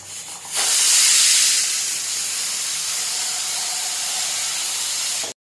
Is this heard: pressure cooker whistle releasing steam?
yes